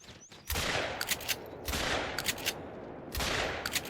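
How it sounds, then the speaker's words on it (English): Three booming shotgun blasts aimed at a ring-necked pheasant in theHunter: Call of the Wild, each followed by a long rolling echo, spaced roughly a second and a half apart. "We'll somehow miss our first 2 shots, but end up getting him the 3rd time."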